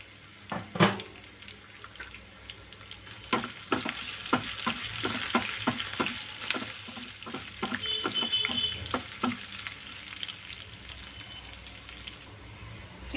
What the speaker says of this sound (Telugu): కొంచెం ఫ్రై అవ్వనిద్దాం. మిరియాలు వేస్తున్నానండి.